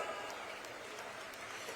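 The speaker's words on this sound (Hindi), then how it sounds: "ताली की आवाज कम आते" Scattered, rather thin clapping from a political rally audience, distant and continuous at low level with faint crowd noise behind it.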